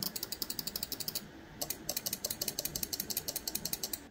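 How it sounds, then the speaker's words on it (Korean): Rapid, evenly spaced crisp computer mouse button clicks repeat in a fast steady rhythm, pausing briefly once before resuming, close and dry with no voices. "클릭 소리."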